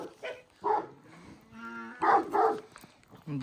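Cows back from pasture in a village yard low and moo in several close, loud calls separated by short pauses, with a few brief barks from a nearby dog.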